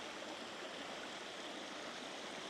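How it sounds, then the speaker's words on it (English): Water pours steadily over a waterfall and hidden spillways at a large backyard pond, a dense, unbroken rushing roar close by. "So we got some killer hidden spillways over here, tons of water flowing over."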